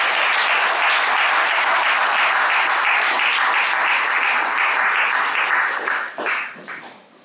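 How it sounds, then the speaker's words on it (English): Steady round of applause from an audience at a school chapel gathering, dense and sustained for several seconds before thinning out and fading near the end. "Can you just join me again in another round of applause for Mrs."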